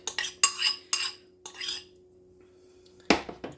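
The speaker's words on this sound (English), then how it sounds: "So I'm gonna add my ground beef, already cooked." Cooked ground beef being stirred into boiled potatoes in a pot: a few separate bursts of metal spoon scraping and clinking against the pot, close and fairly loud, with quiet gaps between them and a sharper scrape near the end.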